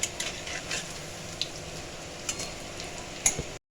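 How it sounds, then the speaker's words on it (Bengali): Potato and egg fritters fry in hot oil, a steady bubbling sizzle with a few sharper pops and crackles scattered through it, close by and without any talk. "এটা দুদিকে ভালো করে ভাজবেন আপনারা, লাল লাল হোক বড়াটা।"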